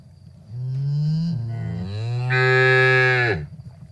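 A single cow moos loud and close: a long, rising, harmonic bellow lasting about three seconds that swells in the middle before cutting off, with a quiet background.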